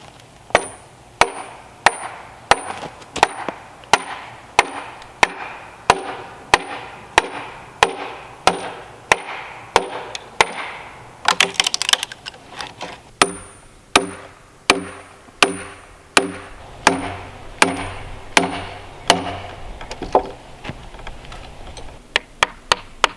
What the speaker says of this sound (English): Having to finish up with my small chisel